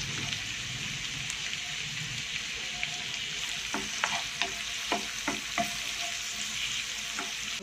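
Chopped garlic sizzles and fries in a pan, a steady close hiss of hot oil with a few sharp crackles and pops toward the end, no talking over it.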